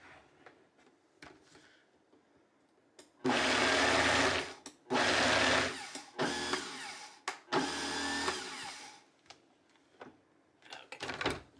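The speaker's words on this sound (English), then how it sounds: "start the blender" A kitchen blender mixes dumpling ingredients in several loud bursts of whirring motor, stopping and starting between them, with quiet clinks and handling noises before and after.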